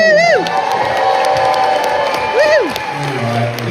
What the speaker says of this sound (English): we have a round of applause Woo! for Craig.